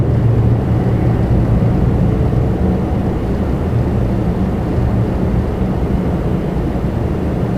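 Jet engines of a Boeing 777-200 at Toronto Pearson airport, heard through a hotel window as a loud, steady low roar and rumble that holds constant throughout.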